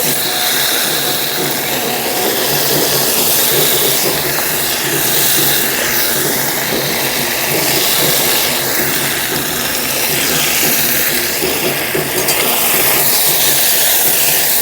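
Pieces of chalta (elephant apple) frying over a high gas flame with turmeric, salt and panch phoron for a chutney, a loud dense continuous sizzle and hiss that holds steady throughout.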